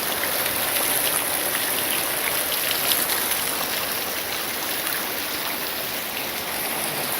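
Heavy rain and rising floodwater from a storm and high tide around a garage in Galveston, heard as a steady, loud wash of falling drops and rushing water with no pauses throughout.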